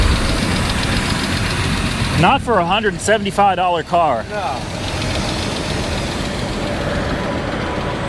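A 1997 BMW 528i E39 engine idles steadily throughout, a low continuous rumble, with someone briefly speaking over it partway through.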